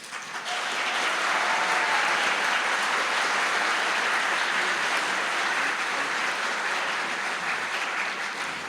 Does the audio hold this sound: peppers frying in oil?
no